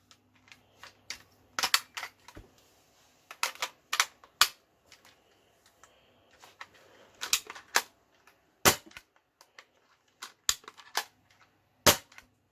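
A Dart Zone Max Outlaw toy foam-dart blaster fired repeatedly, giving sharp, loud snapping cracks at irregular intervals, some in quick pairs, with near silence between shots.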